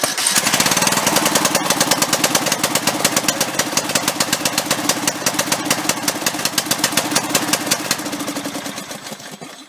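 A Bolens riding lawn mower engine runs after its starter solenoid was replaced, a loud, close, rapid chugging idle with fast regular knocking pulses that continues steadily throughout with no talking.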